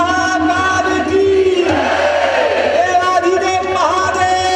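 A large crowd at a spiritual camp loudly chants in unison praising Mahakal, a sustained roaring chorus of many voices with a strong tonal drone, close and full throughout.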